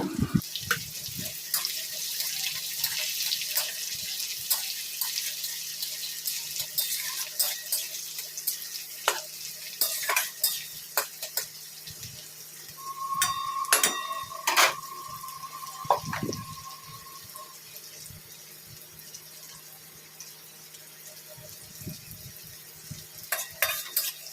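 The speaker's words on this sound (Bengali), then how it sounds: "পেঁয়াজের কুচিগুলো এর মধ্যে দিয়ে দেবো দিয়ে এটাকেও একটু ভালো করে ভাজা ভাজা করে নেব" Chopped onion and black cumin sizzle steadily in a pan while a spatula stirs them in irregular scraping strokes, close and moderately loud, with a brief tonal whine partway through and no talking.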